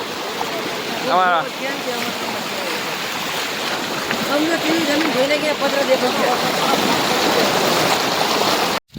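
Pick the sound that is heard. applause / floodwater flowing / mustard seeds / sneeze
floodwater flowing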